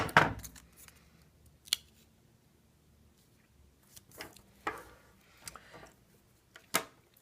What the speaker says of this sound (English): I'm going to take this little piece of green and just cut it at a slight angle